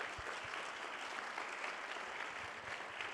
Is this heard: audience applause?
yes